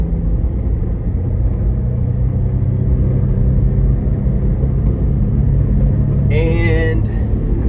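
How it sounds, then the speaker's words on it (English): Mitsubishi Mini Cab mini truck engine pulling uphill through the gears, a steady loud drone with rumble throughout and a brief higher whine or squeal near the end. "gonna see how it does going back up the hill"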